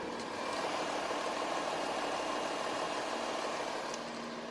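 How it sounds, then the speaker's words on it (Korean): A Volkswagen Phaeton V6 3.0 TDI diesel idles with the hood closed, giving a steady, muted, even hum heard from close by with no voices. "이 정도의 엔진 소음 만나보실 수가 있습니다"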